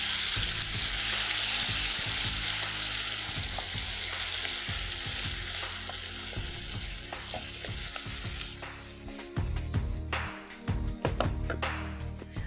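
Ground shallot chutney with curry leaves sautés in a pan, a strong bubbling sizzle at first that settles down, followed by scraping and stirring clatters of a spoon against the vessel, with no talk heard.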